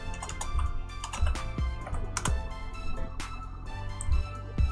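Rapid typing on a computer keyboard, a steady run of close, crisp key clicks with a few heavier strokes, heard alone with no talking.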